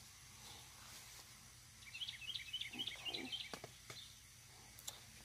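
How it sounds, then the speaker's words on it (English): A short burst of quick backyard bird chirps rises over quiet outdoor ambience, with a few soft clicks and rustles nearby. "Hear the birds."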